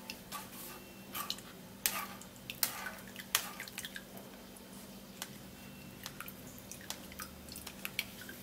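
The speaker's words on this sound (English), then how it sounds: "you can just remove and sieve out the fiber, which is actually what I am doing right now." Fiber is sieved out of freshly made juice, with faint, scattered drips and small liquid ticks falling through the strainer against a quiet background hum.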